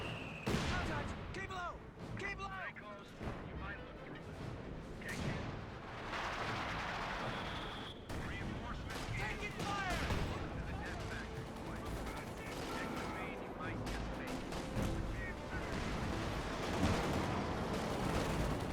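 Battle din in Company of Heroes 2 with machine-gun chatter, rifle shots and artillery thuds, a continuous, moderately distant mix of firing and explosions running under steady commentary.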